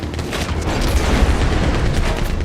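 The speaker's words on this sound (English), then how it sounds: "They brought a Gatling gun." Gatling gun fire in Red Dead Redemption 2: a dense, continuous barrage of booming shots with heavy low rumble, loud and relentless throughout without pause.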